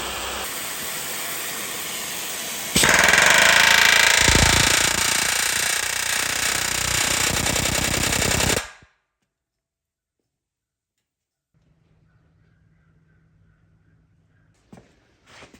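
A pneumatic rivet hammer drives hot rivets into the bottom side of a K10 truck frame laid on its side, a loud continuous rattling burst that stops abruptly, followed by quiet with faint shop noises.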